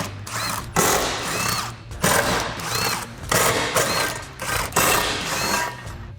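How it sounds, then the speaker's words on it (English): An impact gun fitted with a 13mm socket drives out the brace bolts beneath a Camaro during removal of the stock cat-back exhaust, firing in a steady series of short, loud, buzzing rattles with brief pauses between them. "So I'll get a 13mm socket on an impact gun to get these off."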